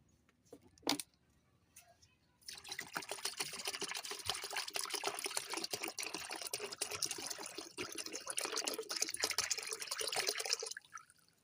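Buttermilk and coconut milk are poured together and mixed, heard as a steady close liquid stream and splashing for about eight seconds after a single knock, with no talking.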